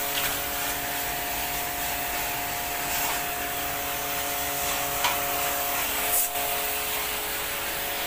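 Steady pressurized water spray washing a dirty Daikin inverter air conditioner evaporator coil after four years of use, a continuous loud hissing rush with a constant motor hum underneath.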